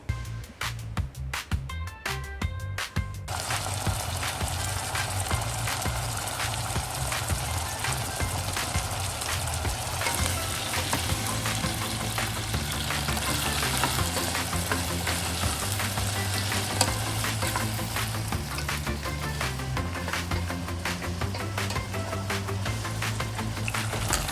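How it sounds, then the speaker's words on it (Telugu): Chicken fries with onions in a pan in Indian home cooking, a dense continuous sizzle close up throughout, opening with a few seconds of crackly stirring clatter and carrying no speech. "మంచిగా దీన్ని ఆల్రెడీ ఉన్న ఆనియన్స్ మంచిగా కలుపుకొని చికెన్ మంచిగా కుక్ అయ్యేటట్టు"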